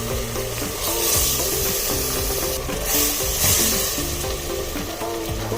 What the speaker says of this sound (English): when they serve sizzling tofu or clay pot, this is the sound that you get